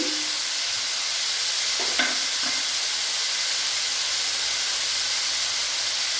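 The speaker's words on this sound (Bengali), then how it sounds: "এবার আমি ভালো করে এটা নাড়িয়ে চাড়িয়ে নেব।" Snake gourd frying in a pan with green chilli, salt and turmeric for a Bengali bhaja, giving a loud, steady hissing sizzle throughout, with a brief stirring scrape partway through and no speech.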